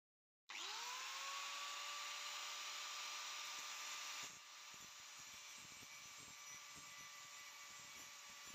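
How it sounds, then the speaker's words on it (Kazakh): A motor part is sharpened with a power tool: a steady, loud high-pitched whine starts abruptly and holds, then drops to a lower, rougher grinding level midway, close and without talk. "Сондықтан бұны әзір сіздерге қайрап көрсетейін."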